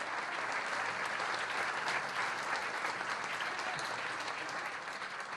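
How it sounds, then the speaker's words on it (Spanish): Steady, dense applause from a crowd fills the room at a Peronist party political event, holding at an even level without breaks throughout. "Un aplauso para los compañeros"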